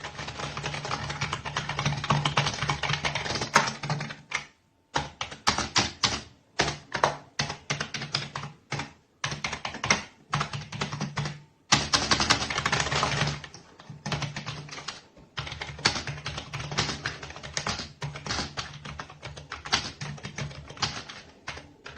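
Typing on a TeckNet RGB wired gaming computer keyboard with a UK layout. Dense, fast keystroke clatter runs in bursts with brief pauses, close and clear, with no talking.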